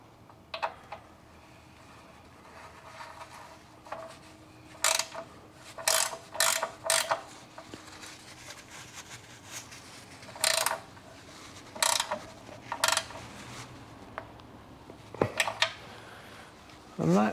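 Ratchet tightening the sump plug on a 2012 Ford Ka 1.2 petrol during an oil change: bursts of sharp clicking pawl strokes in irregular groups, close and fairly loud, with quiet gaps between, over a low background hum.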